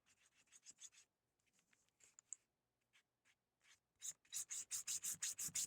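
Fingertips smear paint across freezer paper: soft, dry rubbing strokes in scattered bursts that build into a loud, steady run of rhythmic swishes near the end. No talking.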